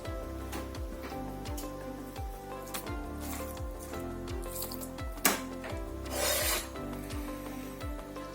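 Knife cutting meat into even pieces for oven-cooked shashlik: steady, repeated slicing strokes against a board at a regular rhythm close up, with one sharp knock partway through and no talk.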